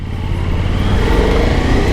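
A Suzuki V-Strom 1050 DE adventure bike's V-twin engine runs close by, a steady low throbbing drone that swells slightly in loudness over two seconds, with no voices.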